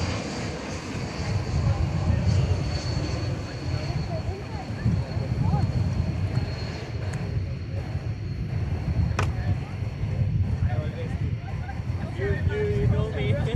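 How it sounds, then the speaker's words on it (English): A Delta Airbus A320 arriving from Seattle on approach at DFW Airport, a distant low rumble of jet engines swelling and fading beneath steady outdoor noise while someone talks over it. "Here's a Delta flight coming in from Seattle. It's a Airbus A320."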